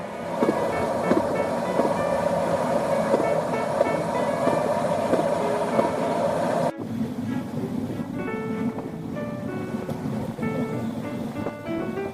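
Steady rumble and clatter of an express train running on rails between Bangkok and Ubon Ratchathani, Thailand, with a sudden shift to a quieter, lower drone partway through.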